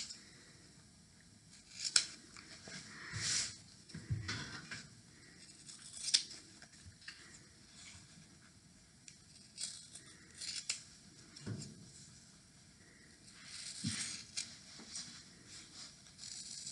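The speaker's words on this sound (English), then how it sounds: "So if you had any loose threads on this edge, this will cut those loose threads off." Scissors trimming excess fabric and loose threads from a pillowcase edge, a series of quiet, close snips spaced irregularly with soft handling rustles between, no speech.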